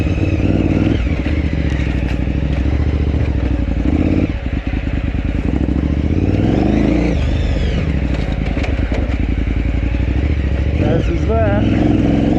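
A KTM 990 Adventure fuel-injected motorcycle engine drones loud and close while riding off-road at a rally, with rattling clatter and a shifting pitch, and someone talking briefly over it.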